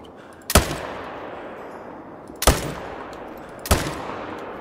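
Three loud, close rifle shots in a hunting video game, evenly spaced about two seconds apart, each a sharp crack with a short decaying tail over a quiet background and no talk.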